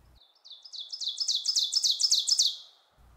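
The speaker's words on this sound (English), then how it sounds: "for the warblers that aren't colorful, their loud, attention-grabbing song makes it a delight for birders to hear" A warbler sings a loud, bright song of rapid repeated high chirps that rise in strength and then fade, clear and alone against a quiet background.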